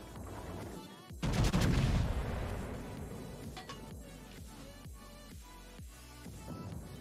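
Main guns of the Tier X American battleship USS Montana in World of Warships firing in a heavy booming salvo, followed by a rumbling tail and a string of further sharp reports from smaller guns.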